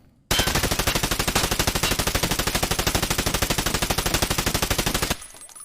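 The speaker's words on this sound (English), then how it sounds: "We're going to try out the G36C." A G36C rifle firing in the video game Escape from Tarkov: one loud, unbroken full-auto burst of about five seconds, with rapid, evenly spaced shots that stop abruptly.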